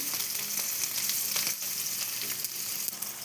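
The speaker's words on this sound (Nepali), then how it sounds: "माछा टमाटर सबै एकै ठाउँ लाएर फ्राई गर्ने हो।" Fish and tomatoes frying together in one pan give a steady, close crackling sizzle with scattered pops and spatters throughout, no voices.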